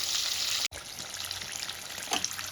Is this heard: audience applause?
no